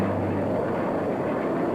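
An Avro Canada CF-100 Canuck all-weather jet interceptor roars steadily, a loud, continuous engine rumble that holds level throughout with no voices.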